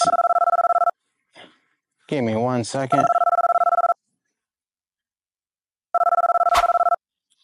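A telephone rings with an incoming call in steady electronic bursts, loud and close, with pauses between them. A voice speaks briefly between the rings.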